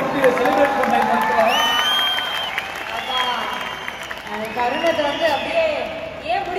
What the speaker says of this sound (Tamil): ஒரு பெரிய கைத்தட்டல கூட்டி செலிப்ரேட் பண்ணாங்க